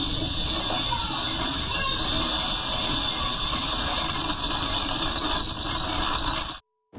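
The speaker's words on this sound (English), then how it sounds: "that was the sound of a lithium-ion battery exploding" A lithium-ion battery exploding and venting smoke gives a loud, sustained roaring hiss with rattling, steady for several seconds before it cuts off abruptly.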